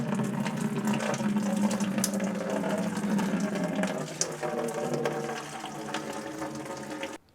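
Water drips and trickles steadily from a Tahoe heater core hose during replacement, a continuous splashing wash with faint clicks of handling, fairly close and fading out at the end.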